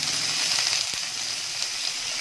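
Two large finely chopped onions fry in a pan for a soya chunk gravy, giving a steady close hiss and sizzle throughout, with a faint tap or two of a utensil.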